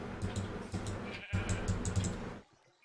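Two sheep bleat in the video game Agrarian Skies, a pair of wavering, nasal calls in quick succession, fairly loud and close, with a light clicking beneath them before the sound cuts to near silence.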